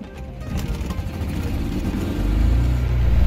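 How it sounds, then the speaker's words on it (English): A rough lawnmower engine in the Roblox game Driving Empire rumbles and revs up, growing louder and deeper toward the end, close and steady with no voices. "let's start this thing up and hear this monster of an engine"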